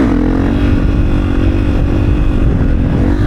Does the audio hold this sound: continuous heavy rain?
no